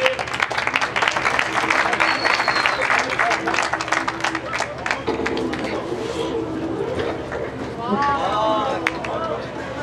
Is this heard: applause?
yes